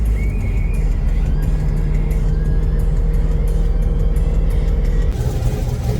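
A C5 Corvette drives on the road with a loud, steady engine rumble and road noise close by throughout, easing slightly near the end.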